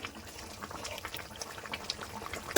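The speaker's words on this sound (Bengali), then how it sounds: "ঢাকনাটা উঠে দিচ্ছি গ্রেভিটা প্রায় হয়ে এসছে" Cabbage gravy simmers in an open pot with the lid just lifted off, giving a close, steady bubbling and soft popping that continues without a break and is fairly quiet.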